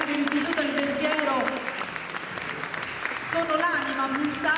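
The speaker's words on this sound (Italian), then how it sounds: "accogliamo con un applauso ancora più fragoroso i ragazzi dell'Istituto Alimentiero" An audience at a Christmas 2022 panettone presentation in Tropea applauds steadily, a moderate wash of clapping beneath a speaking voice that carries through much of the clip.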